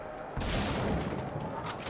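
A deep, muffled boom of cannon fire in the video game Splatterhouse, followed by a rumbling roll that fades slowly.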